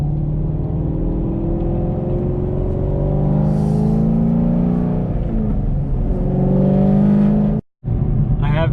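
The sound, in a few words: 1969 Camaro driving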